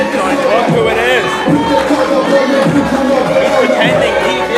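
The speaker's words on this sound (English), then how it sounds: "Everybody cheering for Jurgen except for Nona" A wrestling crowd roars and chatters for winner Jurgen Musabelliu, a constant loud hubbub with a commentator's voice talking over it the whole time.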